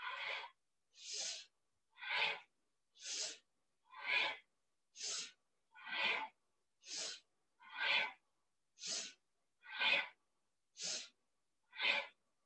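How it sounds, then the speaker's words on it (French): Powerful rhythmic breaths during a kundalini kriya exercise, about thirteen forceful nasal exhalations spaced roughly a second apart, close and loud against silence. "Utilisez toujours une respiration puissante."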